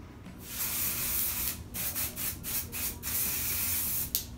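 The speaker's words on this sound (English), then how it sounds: "And I'm just going to spray it in through my hair." Close, airy hissing bursts of Joico Beach Shake texture spray sprayed into hair, several pulses with brief pauses between them, no voices.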